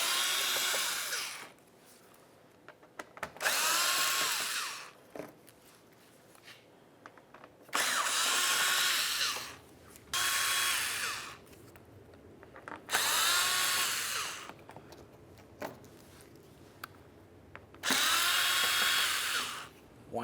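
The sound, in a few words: power drill removing Phillips head screws, Nissan Sentra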